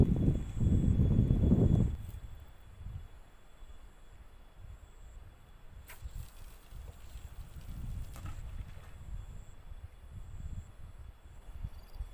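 Stormy wind blowing outdoors at a rainy-season fishing spot, with a heavy buffeting gust striking the microphone at first, then a lower steady rush with faint rattles and knocks, no speech.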